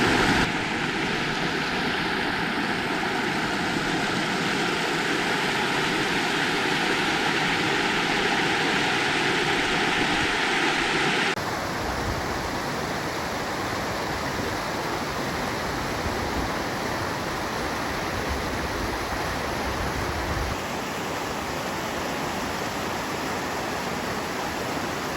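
A river flows loudly through a campsite in Sequoia National Park, a broad, constant rushing wash that fills the whole scene without pause, shifting slightly in tone partway through.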